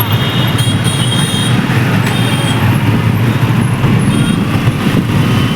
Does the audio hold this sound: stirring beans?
no